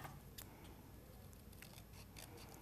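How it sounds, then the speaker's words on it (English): Small scissors snip craft material to length for a paper piano trinket box, a few light clicks over a steady loud background hiss, with no speech. "So what I'm going to do is just snip this"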